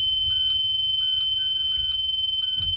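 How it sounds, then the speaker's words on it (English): A bus emergency window alarm beeps shrilly in a steady repeating pattern, four pulses over a constant high tone, loud and close. "And the alarm would sound."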